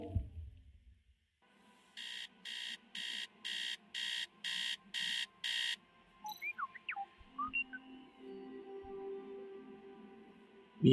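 Eight evenly spaced electronic alarm beeps from a video game, a steady loud pulsing run over a low ambient hum, followed by scattered softer game sounds.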